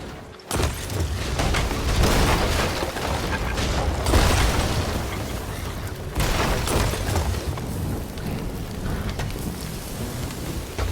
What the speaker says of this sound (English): I had a lot of fun with these fireworks,